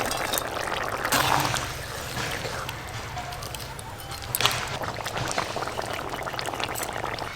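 Fish curry broth boils in a pot, giving a continuous bubbling, rushing hiss with occasional louder splashy bursts, steady and fairly close, with no talking.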